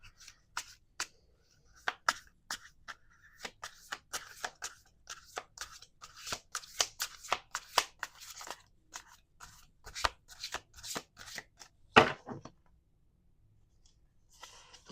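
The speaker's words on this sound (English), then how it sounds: "Last shuffle." A deck of tarot cards is shuffled by hand in a quiet room, with a run of sharp, irregular riffles and taps building to a denser flurry and ending in one loud snap near the end.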